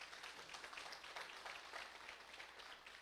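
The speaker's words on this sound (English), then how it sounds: "Marcel Camacho a big hand of applause" Applause for a guest at a realtors' legislative forum in Guam, a steady, even wash of many hands clapping that sounds faint and distant throughout, with no talking.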